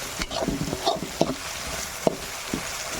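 Masala of chilli, coriander, cumin and black pepper powders frying in a pan for chicken liver masala, with a soft steady sizzle and several sharp scraping stirs of a spoon against the pan.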